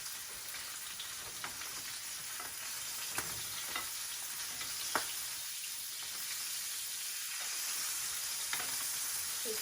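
Food frying in butter in a pan while potatoes bake in the oven, giving a steady close sizzle with a few sharp pops and crackles scattered through, no voices.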